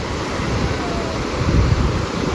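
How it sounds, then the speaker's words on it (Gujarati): Sea waves crash onto the shore at Somnath in a steady, loud roar, with wind buffeting throughout and a slight swell near the end. "દરિયો તો ભાઈ ઘૂઘવાટા કરે તો જ મજા આવે"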